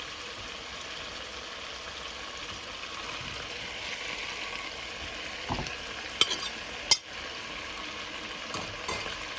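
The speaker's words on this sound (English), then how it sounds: "This will have to season and fry down in this oil." Duck meat fries in oil with seasoning, giving a faint, steady sizzle with a few sharp clicks of stirring utensils near the end, no talk.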